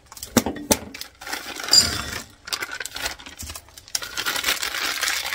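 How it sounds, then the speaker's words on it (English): A bag of milk chocolate chips is handled up close, giving sharp plastic crinkles and a few clicking taps that come in uneven bursts. "I'm going to take one bag of milk chocolate chips here"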